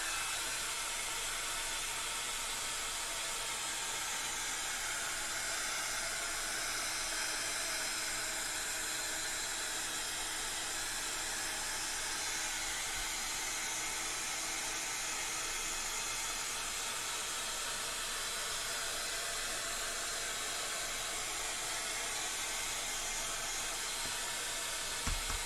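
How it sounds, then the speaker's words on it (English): A heat gun blows steadily over a craft project to dry it, a continuous even hiss and whir that runs uninterrupted and fairly close throughout. "Like to hit that again with the heat gun."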